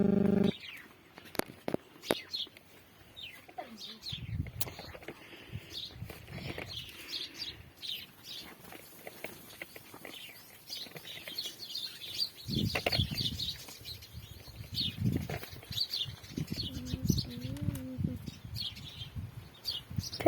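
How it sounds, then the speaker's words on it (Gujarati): Pigeons near a well giving bursts of wing flapping and soft chirps, with a low coo late on, scattered and fairly faint amid quiet background noise. "આ રહ્યા આપણા કબૂતરા।"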